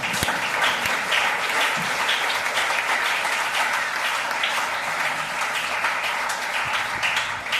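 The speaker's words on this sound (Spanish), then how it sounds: "Denle un aplauso a Jesús." Dense, steady applause from a church congregation praising Jesus during a Spanish-language sermon, sustained at an even level from start to finish with sharp individual claps standing out.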